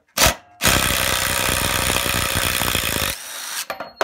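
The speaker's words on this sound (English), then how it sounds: "That's tough wood. So it's a great little impact." Dewalt DCF887 impact driver driving a fastener into tough wood, a short burst followed by about two and a half seconds of loud, close, rapid hammering impacts, then it stops with a few small clicks.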